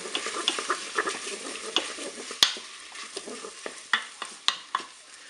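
Shrimp and garlic stirred in a Cookeo pot, with a steady sizzle broken by repeated sharp scrapes and knocks of the spoon against the pot, close and clear.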